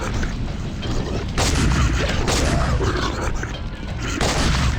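Shotgun blasts from a third-person shooter game, heavy booming reports at irregular intervals layered over dense, continuous battle noise and mechanical clatter, loud and close throughout.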